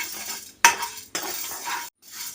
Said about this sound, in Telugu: వీటిని ఇలాగా ఒక్కసారి లో ఫ్లేమ్లోనే వేయించుకుందాం